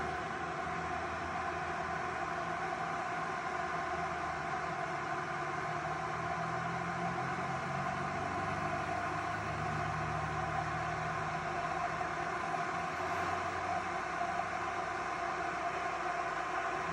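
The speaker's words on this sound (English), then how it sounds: "Sorry for the road noise." Constant road noise recorded about a foot from a parked van: a steady, loud, broadband rushing roar with a low rumble underneath, unbroken throughout and with no voices.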